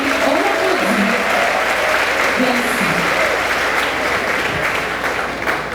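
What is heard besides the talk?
audience applause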